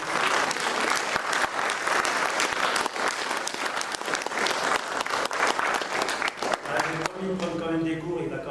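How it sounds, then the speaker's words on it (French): Audience at an association's general meeting applauding a member, steady dense clapping from many hands for about seven seconds before it fades into a speaking voice. "moi, j'aimerais qu'on applaudisse Didier."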